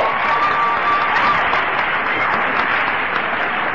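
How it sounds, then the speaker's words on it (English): A large audience at an Alcoholics Anonymous speaker meeting breaks into steady, full applause. The clapping stays loud and continuous throughout, with a faint crowd murmur beneath it. "Trust me, you're clapping for yourself"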